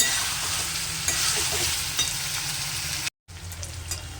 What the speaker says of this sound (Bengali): এটা এখন আমি 2-3 মিনিট ভালোভাবে কষবো।